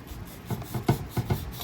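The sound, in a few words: sanding a toy car body with sandpaper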